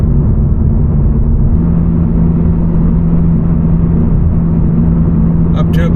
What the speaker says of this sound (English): The wind noise is starting to drown out the exhaust.